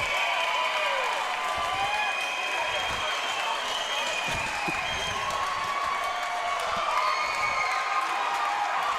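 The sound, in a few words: crowd cheering after lacrosse goal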